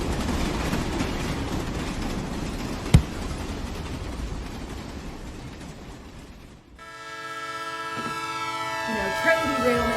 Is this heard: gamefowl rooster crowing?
no